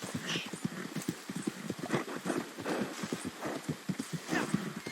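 Steady, rhythmic clip-clop of a horse's hooves during a ride in the Red Dead Redemption-style desert of a video game, with an occasional snort or whinny, close and continuous.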